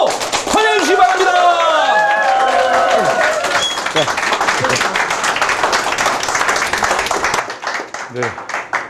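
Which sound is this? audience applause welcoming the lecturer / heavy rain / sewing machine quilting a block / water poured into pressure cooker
audience applause welcoming the lecturer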